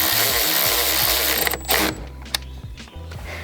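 A bolt being tightened on the car exhaust of a 2018 Jetta GLI, heard as a steady ratcheting, mechanical whir with rhythmic pulses, close up, then a few sharp metallic clanks as it stops.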